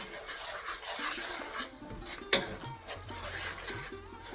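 Whole spices and other ingredients for Lahori chikar cholay are stirred in a cooking pot with soft, faint scraping and shuffling and a single sharp clink of the spoon against the pot partway through.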